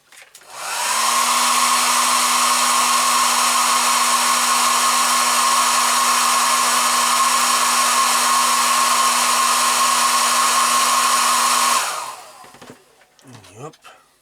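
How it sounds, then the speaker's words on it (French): A hair dryer blows during assembly work on a Jordan-Mugen-Honda F1 car, switching on with a rising whine and then holding a loud, steady whirring hiss for about eleven seconds before cutting off and winding down. "Petit coup de sèche-cheveux."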